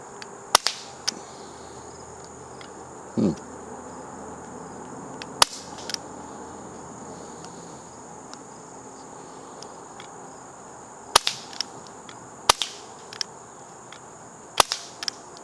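An Umarex Avera .177 CO2 air pistol shooting JSB pellets at a target outdoors gives a scattered series of faint, sharp pops and clicks over a constant bed of crickets, with no talking.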